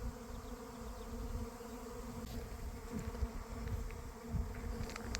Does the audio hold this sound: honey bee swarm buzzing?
yes